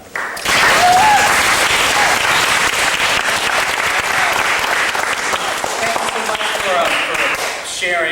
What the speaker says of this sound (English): So I want you guys to give them another round of applause.